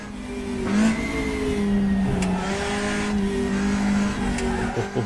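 Engines of a Nissan GTR and a Volvo racing in the RaceRoom sim, a loud steady engine drone holding pitch with brief shifts and slight wavers, close and continuous, with no talk.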